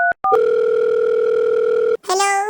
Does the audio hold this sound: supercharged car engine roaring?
no